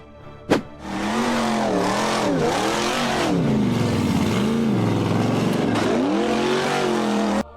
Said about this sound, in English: The buggy flying an American flag revved hard and charged up the steep embankment.